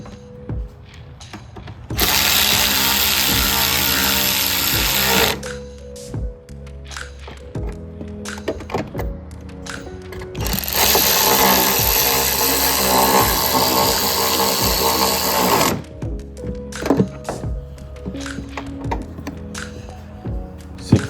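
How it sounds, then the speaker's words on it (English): Quick ratcheting clicks from a hand ratchet tightening the airbox bolts on an Infiniti QX56, coming in two long close bursts with separate single clicks and handling knocks in between. "Fasten the airbox down using the 3 bolts."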